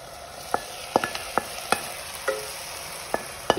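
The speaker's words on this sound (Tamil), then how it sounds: "இப்போ வந்து நம்ம வதக்கி வச்ச வெண்டைக்காய் இதை சேர்த்துக்கலாம்." Okra already sautéed is tipped into a hot pan and stirred, giving a steady sizzle of frying with sharp scraping clinks of a spoon against the pan at irregular intervals, close up and with no talk.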